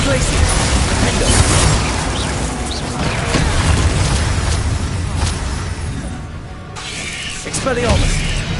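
Spell blasts cast in Hogwarts Legacy, a run of bright bursts, pops and whooshing impacts over a busy rumbling bed of battle noise, with a voice shouting in between.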